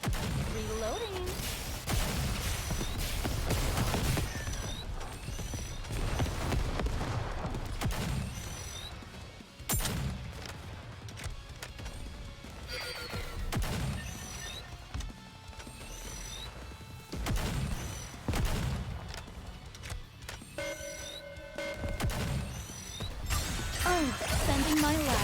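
Gunfire in the mobile shooter Nikke: Goddess of Victory, rapid repeated shots and mechanical clatter in dense bursts with reload clicks, steady through the clip alongside game music and effects, no talking.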